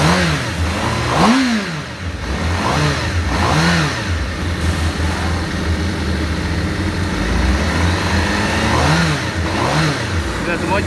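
A 2020 Honda CBR1000RR-R SP Fireblade with an Akrapovic exhaust revs close up, with repeated throttle blips that rise and fall over a steady idle.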